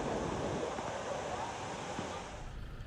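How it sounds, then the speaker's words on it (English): Erawan waterfall in Thailand, a steady broadband rush of falling water that stays loud and continuous throughout, with faint voices mixed into the roar. "This is Erawan waterfall, the most famous waterfall in Thailand"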